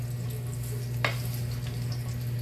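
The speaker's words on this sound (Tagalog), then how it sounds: "Pina-fry lang naman natin to kasi para medyo maalis yung lansa." Food frying in a pan for Filipino ginataang langka, a steady close sizzle under a low continuous hum, with a single scrape of stirring midway.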